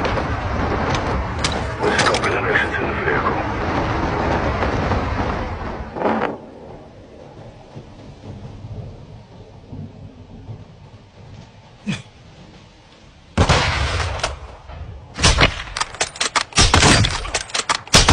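Gunfire in Call of Duty Modern Warfare 2 comes in loud bursts of shots near the start and again toward the end, with a quieter stretch between them and a few sharp single cracks.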